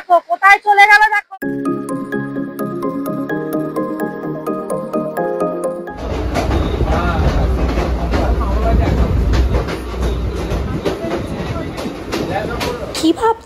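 A local passenger train rumbles and rattles steadily along the tracks in the second half, heard from on board after a stretch of melodic music, loud and continuous.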